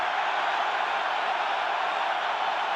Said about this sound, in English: It's woken up the home crowd.